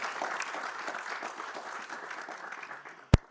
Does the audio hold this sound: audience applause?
yes